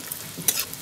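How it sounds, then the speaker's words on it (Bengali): Slices of bitter gourd fry in hot oil, giving a brief, soft sizzle with a light scrape of a utensil. "এই যে লাল লাল করে উচ্ছেগুলো ভাজা হয়ে গেছে"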